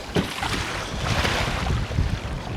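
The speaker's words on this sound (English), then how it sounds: "these are some big waves" Loud, continuous wind buffeting and splashing of big waves around a pedal kayak heading into a headwind on the Missouri River, a steady roar of water and gusts with no voices.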